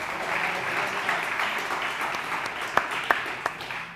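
An audience at a young gastronomy talent forum applauds a speaker, a steady wash of many hands clapping close by, with a few sharper individual claps standing out near the end.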